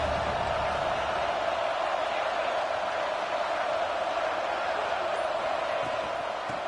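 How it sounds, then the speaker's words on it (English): Crowd noise at a college football stadium, steady and dense like a wash of roaring, held evenly from start to finish at a moderate distance, without any distinct words. "here comes the noise. This crowd is trying to inspire this defense to make a big red zone stop"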